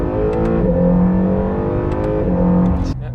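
A 2019 Acura NSX supercar engine rises under hard acceleration, a steady loud harmonic drone that climbs in pitch, drops briefly at a gearshift, then climbs again before easing near the end.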